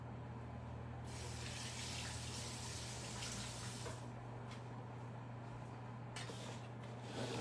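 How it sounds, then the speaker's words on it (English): A sink tap runs steadily while hands are washed under it, a continuous close water gush and splash with slight shifts as the hands move through the stream, steady background hum beneath and no talking. "Let me wash my hands real quick."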